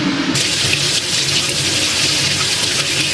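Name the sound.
washing brown eggs under running tap water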